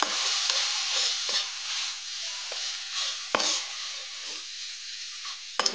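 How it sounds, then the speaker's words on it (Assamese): Ground cumin and coriander frying in a pan, a steady sizzling hiss with a few soft stirring clicks and scrapes, close and alone. "দি অকণমান ভাজি ল'ব।"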